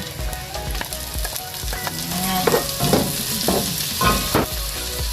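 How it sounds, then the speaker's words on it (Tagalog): Shrimp paste (alamang) sautés with onion and ginger in a pan, sizzling steadily while a utensil scrapes and stirs in a series of close, loud strokes. "Igisa natin ang ating alamang hanggang mag-brown siya."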